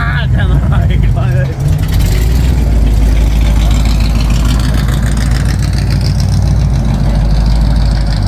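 A car with a Chevy 350 5.7-litre V8 idles close by with a loud, deep, continuous rumble, while voices talk over the steady engine note.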